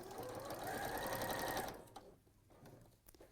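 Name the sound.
sewing machine stitching fabric pieces together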